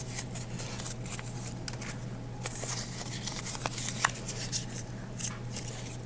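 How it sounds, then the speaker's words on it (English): Paper is crumpled and smoothed out again at close range, with quiet, scattered crackles and sharp crinkling bursts over a steady low hum. "So crumpling them up and then uncrumpling them."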